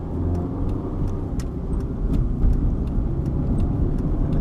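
A car engine idles at roughly 750 to 800 RPM, a steady low rumble heard from inside the cabin with a few faint ticks and clicks over it and no change in revs.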